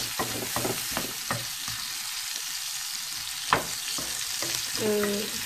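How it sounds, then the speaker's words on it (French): Onions stirred in a pan over maximum heat, frying with a steady close sizzle under sparse scraping taps, one sharp knock midway and a brief utensil squeak near the end. "Donc je fais tourner un petit peu mes oignons"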